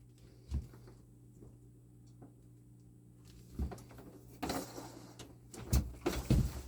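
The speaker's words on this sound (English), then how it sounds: "now you can see that I can slide the door along the rails" A pop-up paper door slides along its paper rails, giving a few short, close scraping and rustling bursts with quiet gaps between them, growing busier toward the end.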